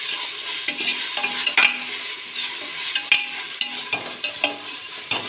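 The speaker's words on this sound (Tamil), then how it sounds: "அடுத்தது நல்லா இஞ்சி பூண்டு வந்து நல்லா வதங்கணும்" Ginger garlic paste sautés in a pan for mutton biryani, a steady close sizzle with a spoon scraping and stirring in repeated strokes and the odd metallic clink, no voices.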